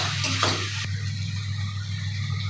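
Garlic paste fries in a pan for a new-potato curry, making a soft, even sizzle with a brief scrape of stirring near the start over a low steady hum.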